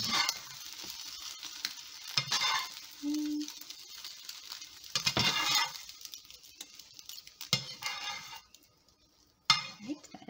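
Eggs frying in a pan: a soft sizzle runs under intermittent clinks and scrapes of a utensil against the pan as the eggs are moved, with brief quiet gaps and a short vocal sound.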